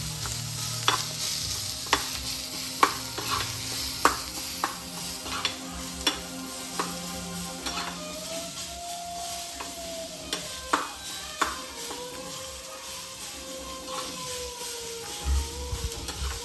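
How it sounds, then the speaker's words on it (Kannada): Ingredients frying in a pan for a Kolhapuri mutton thali, with a steady sizzle and sharp, regular spatula taps roughly every second, close up, with faint tonal background noise and no talk. "ಆಗುವವರೆಗೆ ಫ್ರೈ ಮಾಡಿಕೊಡು"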